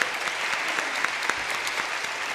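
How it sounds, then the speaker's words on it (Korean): A church congregation applauds at an elders' installation service, steady dense clapping filling the room at moderate level with no talk over it. "우리 박수 한번 좀 해주시기 바랍니다."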